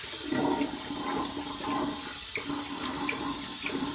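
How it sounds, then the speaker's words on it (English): Water gurgling and draining out of a bathroom sink clogged with hair, a close, moderately loud rushing and sloshing with small bubbling pops, no talk. "let some of this water out. There's a ton of hair in my sink."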